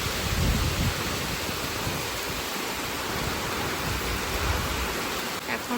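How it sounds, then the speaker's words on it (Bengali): Strong wind during Cyclone Remal roars steadily at night in Bandel, a dense, broad rushing noise with low gusty buffeting against the microphone and no pause. "প্রচণ্ড জোর হাওয়া দিচ্ছে"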